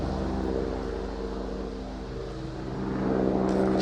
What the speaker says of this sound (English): Just gonna wait for this helicopter to go past.